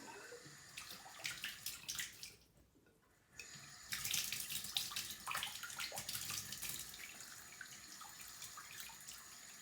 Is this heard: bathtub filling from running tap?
yes